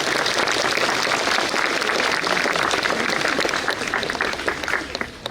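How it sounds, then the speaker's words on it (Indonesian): A crowd at a school alumni gathering applauds, with dense clapping that stays strong and continuous throughout. "tepuk tangan untuk para alumni"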